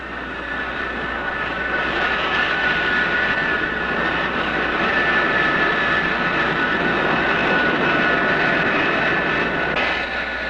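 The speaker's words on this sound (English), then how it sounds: "These planes, American F-105s and Phantoms, take off from these bases daily to bomb targets in North Vietnam." American F-105 and Phantom jet fighters take off from air bases in Thailand, a continuous loud roar of jet engines that holds steady throughout with no talking.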